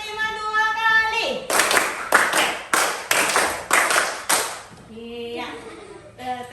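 Schoolchildren in a classroom clapping together in a counting game, a run of six or so crisp, loud unison claps in steady rhythm, framed by a teacher's chanting voice before and after.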